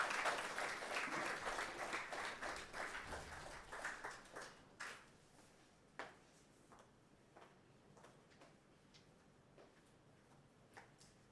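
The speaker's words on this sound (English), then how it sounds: "Another round of applause." Applause at a climate fellowship and grant award ceremony, a crowd clapping steadily before thinning out into scattered, fading claps by the end.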